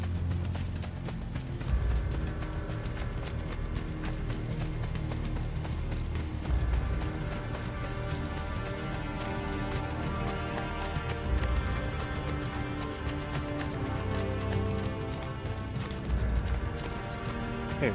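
Steady galloping horse hoofbeats in the video game Assassin's Creed Brotherhood pound on without pause, loud and continuous over a dense wash of background noise and music.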